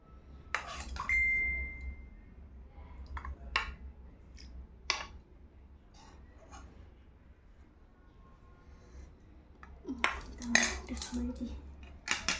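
A serving spoon clinks and scrapes against dishes and a bowl while spicy red home-cooked food is dished out, with scattered sharp metallic taps, a ringing ping, and a busier cluster of clatter near the end.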